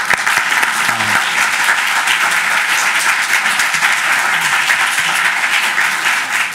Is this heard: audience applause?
yes